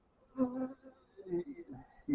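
Honeybees buzz faintly around a hive frame while a beekeeper marks a queen, giving a few soft, short hums that rise and fall and no speech.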